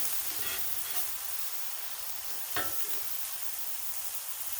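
Food and Angus burgers sizzle loudly on a Blackstone griddle while a spatula scrapes across the hot surface in a few brief strokes under the constant hiss.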